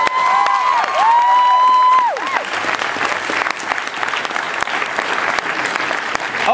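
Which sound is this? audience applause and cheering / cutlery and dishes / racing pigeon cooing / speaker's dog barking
audience applause and cheering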